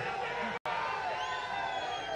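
A political rally crowd cheers and whoops continuously, a loud mass of shouting voices with a brief cutout partway through.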